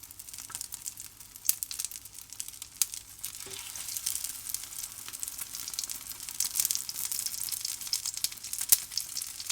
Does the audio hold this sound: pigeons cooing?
no